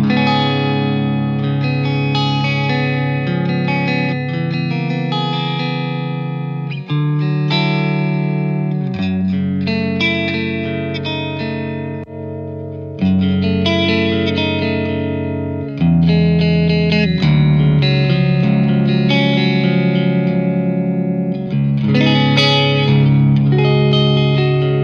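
Distorted electric guitar plays chords and riffs continuously through a Hughes & Kettner Black Spirit 200 amp's cabinet simulations, with a processed, amplified tone that shifts character between passages.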